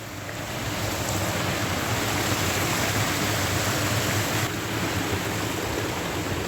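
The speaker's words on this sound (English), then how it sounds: "Here we are where the water comes out from that weir." Water pouring out from a weir beside an old cotton mill in North Wales, a loud, constant broadband rush that swells in the first second and then stays even, with a faint hiss of wind.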